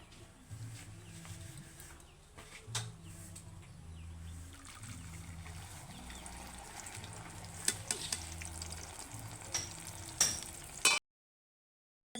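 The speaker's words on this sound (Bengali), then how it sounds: "বেশ খানিকটা তেল আছে, অল্প সময়ের মধ্যে ভাজা হয়ে যাবে।" Lentils frying in a generous amount of oil in a wok while dal chanachur is being made, a steady low sizzle and bubbling with occasional clinks, running continuously before cutting to silence near the end.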